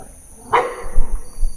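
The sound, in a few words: dog barking in abandoned school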